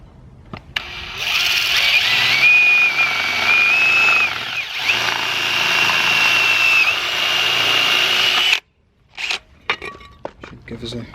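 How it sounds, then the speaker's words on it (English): A power drill bores an 8mm hole into a piece of wood for a motorhome roof repair, a loud close whine holding steady for about seven seconds before cutting off, with scattered handling noises afterward. "I'm going to drill this on a piece of wood."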